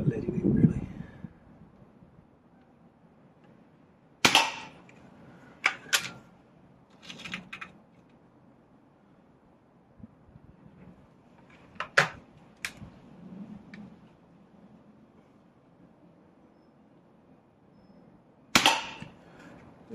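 Shots from a new Weihrauch HW99S / HW50 spring air rifle being run in ring out as sharp, close cracks, a handful spread irregularly across the stretch with quieter clicks and handling noises between them.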